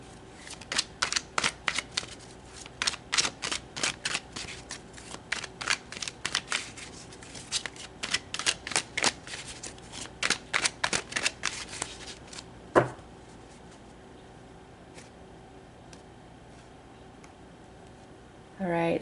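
Tarot cards being shuffled in quick repeated riffles, close and crisp, for about twelve seconds, ending with a sharp tap, then near quiet.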